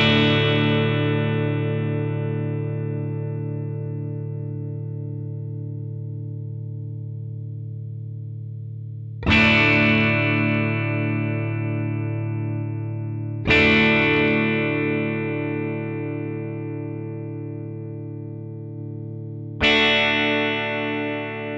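Electric guitar played through a Fractal FM3 Analog Sustainer effect: four struck distorted chords, each ringing long and held up as it fades, with no talking.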